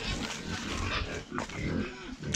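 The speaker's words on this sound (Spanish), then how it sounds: "los puercos son míos" Pigs grunting on a hillside farm make a dense, continuous run of close, loud snorts and grunts, with several animals overlapping throughout.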